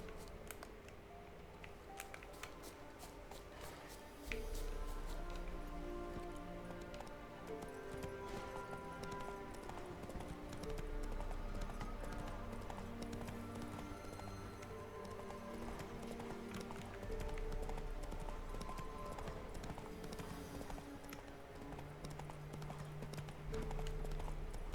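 Horse hooves clip-clop steadily through the Witcher 3 game world, a continuous rhythmic trotting over game music and ambience, moderately loud throughout.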